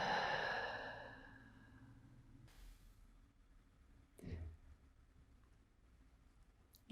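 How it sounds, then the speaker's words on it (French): A long, close breath released in a soft sighing rush fades over a couple of seconds, leaving near silence with a few small rustles and one quiet later puff. "prendre une longue inspire par le nez, une expire par la bouche"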